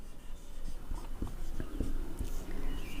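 Pen scratching across paper or a board while maths is worked out, a steady run of short strokes and taps, close and fairly quiet, with no talking.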